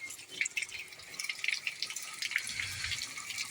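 Water runs steadily from a tank pipe during a plumbing repair, a faint, continuous trickle with small drips and splashes, alone without talk.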